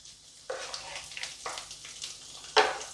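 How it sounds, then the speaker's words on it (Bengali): Kasuri methi frying in oil over a low gas flame, a soft intermittent sizzle that rises in short bursts, with one sharper, louder crackle near the end. "পাঞ্জাবি রেসিপিতে কিন্তু এইভাবে তেলের মধ্যেই কাসৌরি মেথি দেওয়া হয়"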